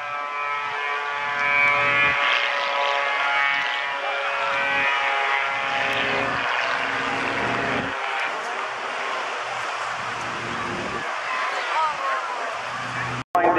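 An Ultimate Pitts Special biplane flies an aerobatic display at the Bournemouth Airshow, its propeller engine droning steadily with rising and falling pitch, while an announcer talks over the public address.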